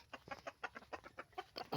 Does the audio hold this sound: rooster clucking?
yes